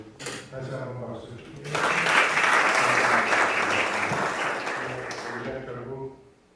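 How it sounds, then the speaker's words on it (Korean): Audience applause at a book concert, a dense steady clapping wash that swells after a quieter opening and then fades out, with voices heard underneath. "다시 한번 박수."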